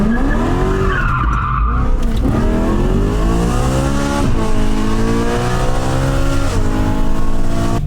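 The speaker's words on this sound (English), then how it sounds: "The V8 just sounds crazy." A BMW E92 M3 with its V8 engine accelerates hard, the rising engine note climbing through gears with tire squeal, loud and close with no talking.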